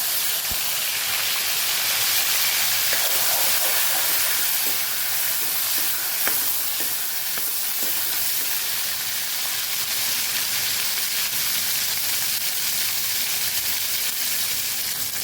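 Chopped tomatoes added to hot oil seasoned with asafoetida for a Kathiawadi drumstick curry tempering, giving a steady, moderate hiss and sizzle with faint crackles throughout.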